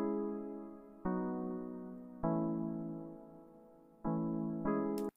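An Electra keys preset plays five struck chords, each decaying slowly before the next, clear and alone in a chill afrobeat production with no voices.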